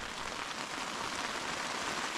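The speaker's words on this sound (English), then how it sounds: "you can hear rain picking up." Steady rain pattering on a tent during wild camping near Dale Head Tarn in bad weather, a dense continuous hiss of drops that fills the whole clip, close and even, with no talking.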